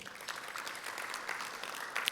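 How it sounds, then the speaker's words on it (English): Comedy club audience claps in a brief, steady burst of applause with no talking. "Round of applause who've been married less than 5 years."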